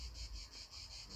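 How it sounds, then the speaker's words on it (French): Cicadas chirp outdoors in a pulsing, rhythmic drone that swells and fades about four times a second, faint and distant with no talking. "Là, on a encore les cigales."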